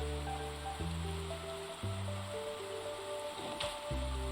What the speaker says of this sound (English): It's raining enough.